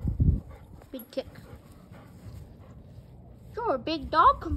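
A young dog whimpers with a few short high whines near the start and a longer cluster of rising and falling whimpers at the end, close by, with light shuffling in between.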